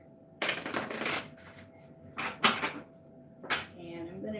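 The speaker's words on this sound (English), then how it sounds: "I'm going to shuffle the deck." A tarot deck being shuffled nearby, three separate bursts of riffling card noise with short gaps between them, set over a faint steady hum.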